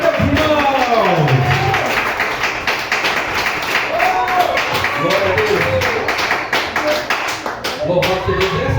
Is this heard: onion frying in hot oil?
no